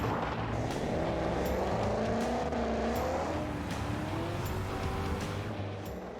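A 1000bhp engine-swapped Jeep in Gran Turismo 7 accelerates hard, its steady loud engine note climbing in pitch through a gear, with sharp clicks and tire noise over a continuous roar.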